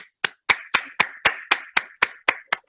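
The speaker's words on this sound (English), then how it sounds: "applauding everybody that has been working through these terrible times" Applause closes a meeting in tribute to healthcare workers: about ten crisp hand claps at a steady, even pace, close and fairly quiet, each one decaying quickly.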